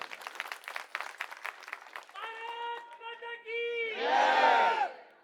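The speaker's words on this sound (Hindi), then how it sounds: "सबसे पहले हमारे कार्यकर्ताओं के लिए एक बार जोरदार तालियां आप लोग बजा दीजिए।" A crowd at a political rally for party workers in Burari, Delhi, starts with talk, then breaks into loud drawn-out shouts and chanting that swell into a burst of cheering and clapping near the end.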